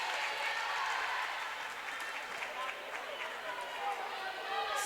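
Volleyball crowd cheering and applauding after a kill in a tied game at 16-16, a steady broad roar of many voices and clapping lasting throughout, with talk running over it.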